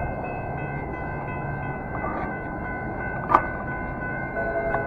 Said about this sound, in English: Oh, that's the Amtrak train.